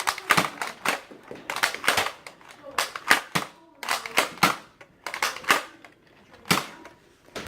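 A Nerf Flip Fury blaster fires in a string of sharp, close plastic snaps and clacks, irregular and rapid, mixed with mechanical clicking, while a voice can be heard among the shots.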